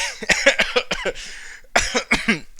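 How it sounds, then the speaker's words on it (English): A person coughs several times in quick, harsh bursts, close to the microphone, with a short pause and then another cluster of coughs and throat clearing. "I actually had to cough there"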